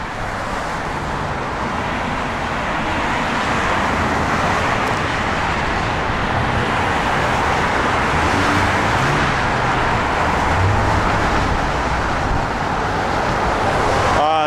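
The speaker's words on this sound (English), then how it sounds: "introduce you all to the busy traffic here on Charlotte Avenue" Steady, busy street traffic on Charlotte Avenue in Nashville, Tennessee, with cars, buses and trucks rolling past in a continuous roar that swells and eases without a break.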